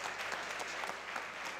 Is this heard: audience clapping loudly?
yes